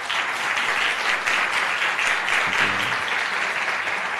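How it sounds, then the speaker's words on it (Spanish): An audience at a Dominican Saturday night television show applauds in a thick, continuous wash of clapping that stays level and fairly loud throughout. "Y eso merece un fuerte aplauso."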